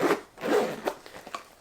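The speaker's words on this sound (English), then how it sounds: "And again, that zips up fine." A zip on a Saint Laurent Mini Lou camera bag is drawn closed in a few quick, close, rasping strokes with short pauses between them.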